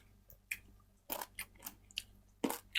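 Crunchy raw pea eggplant eaten with a dried fish dip, producing a series of crisp, close bites and chews in irregular bursts against a quiet background.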